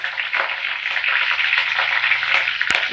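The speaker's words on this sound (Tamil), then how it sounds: "எண்ணெய் சூடாயிடுச்சு. கடுகு உளுத்தம்பருப்பு சேர்த்துப்போம். இது கூடவே கருவேப்பிலையை சேர்த்துப்போம்." Mustard seeds, urad dal and curry leaves hit hot oil in a pan for a moringa leaf kootu, giving a steady, close, bright sizzle with a faint pop near the end.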